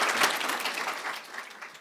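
An audience at an Active Transportation Program symposium claps in a dense, steady round of applause for the speakers, loud and close at first, then gradually thinning over a couple of seconds.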